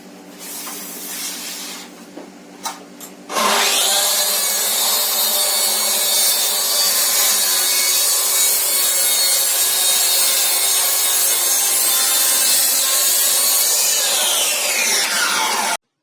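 A Bosch GKT55GCE plunge saw cuts wood along a guide rail, a loud steady whine of the blade through the board that holds for about twelve seconds before winding down, after a few quieter handling noises.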